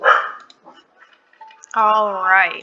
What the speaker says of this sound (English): Please excuse my dog. She likes to bark at everything.